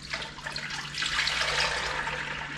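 Half a gallon of cream poured into a Bosch mixer bowl for butter making, a continuous close liquid splashing and gurgling that swells slightly partway through.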